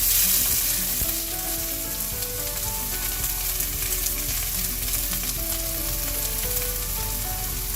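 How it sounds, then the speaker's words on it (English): Onions sizzle loudly in hot oil for a Goan fish curry, a dense, continuous close-up frying hiss with occasional stirring scrapes and no talk. "When the oil is hot, I'm going to add the onions."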